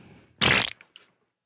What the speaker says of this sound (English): This is where we should have fart noises from the swamp.